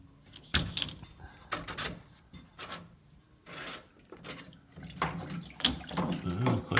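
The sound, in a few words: water flowing out of Whirlpool Duet washer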